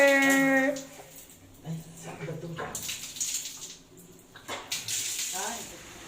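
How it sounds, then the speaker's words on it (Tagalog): Running water from a shower at the Club Punta Fuego beach resort hisses steadily beneath excited voices talking, with a short tonal sound at the start. "Dito yung shower. Yay! Shower!"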